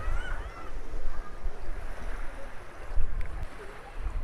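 Waves wash along a beach at China Camp State Park, a low rolling rush of water with wind rumble, steady and close, with no one speaking.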